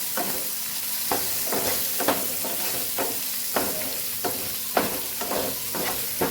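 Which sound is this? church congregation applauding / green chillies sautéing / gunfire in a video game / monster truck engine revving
green chillies sautéing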